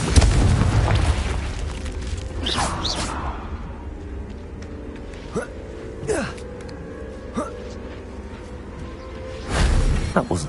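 A Confringo fire spell explodes in Hogwarts Legacy with a loud booming burst at the start, followed by lighter magical whooshes and impacts and another heavy blast near the end, with a voice heard during the fight.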